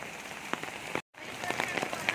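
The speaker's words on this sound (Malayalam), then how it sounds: "സൂപ്പർ മഴയാണ്, അടിപൊളി മഴ." First rain of the year falling in Pune outside a housing society, a steady patter of drops on surfaces with scattered sharper splashes, briefly cut out near the middle before continuing.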